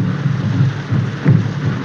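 Heavy rain hisses steadily with low rumbling swells like distant thunder in a 1932 drama film soundtrack, the old recording muffled and noisy throughout.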